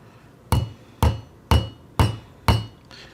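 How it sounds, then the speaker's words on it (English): Five evenly spaced metallic hammer blows on a hot toy tire resting on an anvil ring out about half a second apart, each loud and sharp with a short ringing decay, then a fainter sixth tap. "Put it on the anvil with it hot. And hit it a few times with a hammer."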